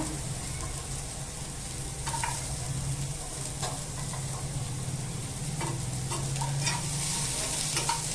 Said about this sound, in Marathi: कांदा छान ना गुलाबी होईपर्यंत परतत राहायचं आहे